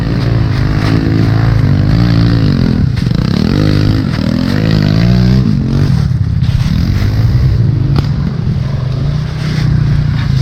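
An off-road motorbike revs hard on a trail hill climb, its engine loud and close throughout, pitch rising and falling with throttle blips.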